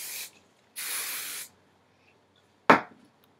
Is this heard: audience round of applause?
no